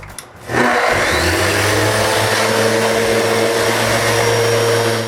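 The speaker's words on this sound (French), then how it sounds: "Il ne reste plus qu'à sabler le plancher." Power sander starting up on a cherry-veneer plywood mezzanine floor in a workshop: a short quiet lead-in, then a loud steady motor whine with a constant hum, running evenly without voices.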